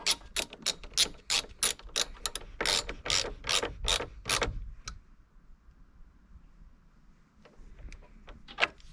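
A ratchet with a 10mm socket tightens the negative terminal clamp on a car battery, giving a run of loud, rapid clicks for about four seconds, then near quiet, then a few more scattered clicks.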